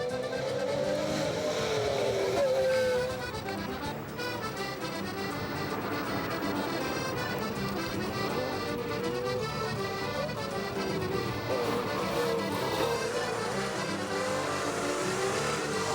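Rally cars race through the Petty Harbor stage of Targa Newfoundland 2004, engines revving hard and fading at a distance with occasional tire squeal, a steady roar throughout.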